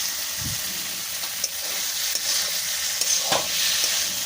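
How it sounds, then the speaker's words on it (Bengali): Masala for a Bengali fish curry with peas frying in a pan while being stirred continuously, a steady bright sizzle with occasional spatula scrapes and taps, close up, no voices. "মশলা পুড়ে যাতে না যায় তাই ক্রমাগত এইভাবেই নাড়িয়ে যেতে হবে।"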